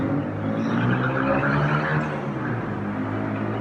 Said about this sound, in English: we got a lot of loud traffic tonight